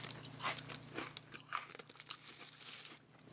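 Close, quiet crunching and chewing of buttery pretzel sticks, irregular crisp bites and crackles spread over a few seconds with no talking.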